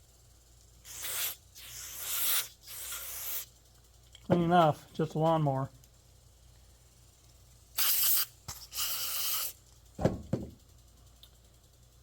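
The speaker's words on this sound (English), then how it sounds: "we'll just spray some carb cleaner" Carb cleaner sprayed onto the buildup in a Craftsman GT6000 lawnmower carburetor during a fuel system overhaul: several sharp hissing bursts, each a second or two long, in two groups, with someone speaking briefly between them.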